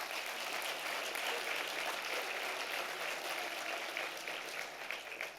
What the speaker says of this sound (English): I want to start with a round of applause again for my co-host